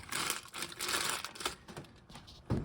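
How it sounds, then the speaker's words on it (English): A plastic bag inflated by air from a tap crinkles in quiet, close, irregular bursts of rustling, with a sharper crackle near the end. "there's obviously air coming out of this tap because this plastic bag inflated"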